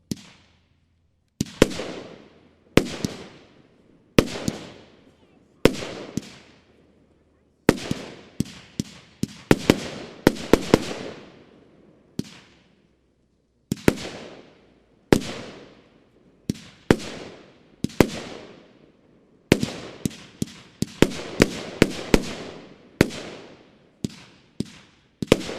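A Pango Yellow River 30 mm 25-shot firework battery fires outdoors at a fireworks preview, sharp launch thumps each followed by a loud bang and fading crackle, in quick, uneven volleys that speed up toward the end.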